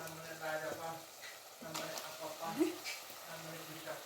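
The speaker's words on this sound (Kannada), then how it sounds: "ಈಗ ನಾನು ಚೆನ್ನಾಗಿ ಕಟ್ ಮಾಡಿ ಎತ್ತಿಟ್ಕೊಂಡಿರೋ ಇಂಥ ಹೂಕೋಸನ್ನ ಹಾಕ್ತಿದ್ದೀನಿ" Chopped cauliflower tumbles into a frying pan of softened tomato for a vegetable bath dish, bringing a soft sizzle and stir-clatter while someone talks nearby.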